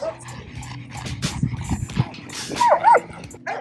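Several dogs at a Texas kennel for dangerous dogs make short barks, yips and whimpers close by, with a couple of higher whining cries near the end and some voices mixed in.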